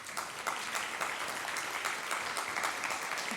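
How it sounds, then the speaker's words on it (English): Congregation applause at a Sunday service, steady and moderately distant, a dense patter of many hands clapping without a break. "let's hold our applause till the end"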